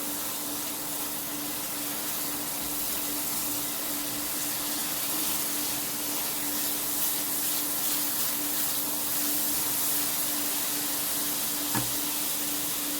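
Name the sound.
ginger garlic and spices frying in ghee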